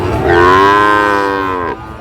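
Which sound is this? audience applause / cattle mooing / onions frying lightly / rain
cattle mooing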